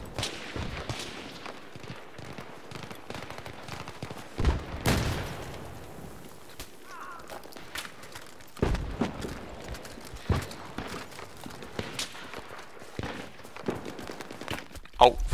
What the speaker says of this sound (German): ich hab hier gerade irgendwie drei Sniper, die auf mich ballern